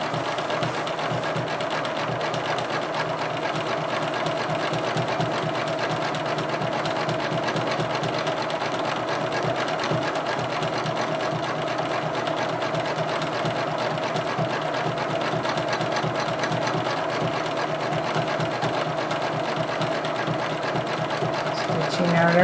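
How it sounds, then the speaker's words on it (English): A sewing machine stitching a diamond grid on a flapper dress quilt design, running at a steady, continuous rapid hum and clatter throughout, close and loud. "Now we'll stitch up on the diamond grid again."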